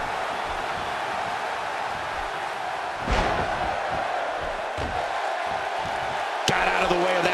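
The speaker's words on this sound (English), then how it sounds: "Based on the electricity that's traveling through this arena and decibel level of the crowd" An arena crowd in the WWE 2K16 wrestling video game roars steadily in the background, with a couple of sharp slams cutting through the constant crowd noise.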